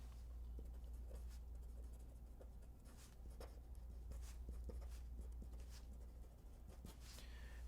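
A pen scratches out a short sentence on paper during practice for the American citizenship test. The strokes are faint, light and intermittent, with soft taps under a steady low hum and no talking.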